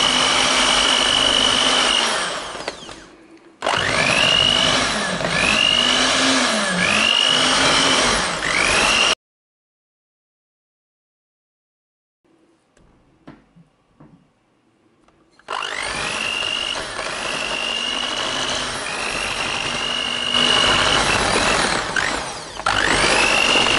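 A stand mixer whirs steadily at low speed, working pieces of butter into a coffee macaron mixture, running loud and close with a rhythmic pulse, then stops for several seconds of near silence with faint handling, before starting up again.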